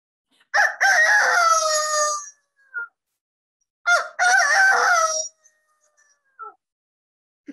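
A person mimics a rooster's crow twice, loud and close, each long cock-a-doodle-doo call followed by a short trailing note, with silence between.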